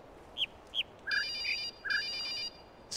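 A mobile phone ringtone rings: short chirping notes, then a repeating electronic melody in two bursts, clear and fairly close.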